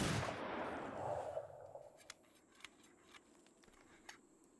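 Gunfire in the samurai-era video game Shokuho, a burst of shots up front followed by several sharp, separate reports spaced out over the next few seconds, moderately loud with no talking.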